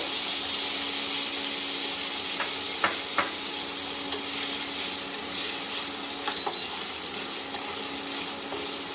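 Vegetables and paneer fry in oil, giving a loud, steady hiss of sizzling throughout, with scattered sharp clicks and taps from utensils against the pan nearby, and no voices.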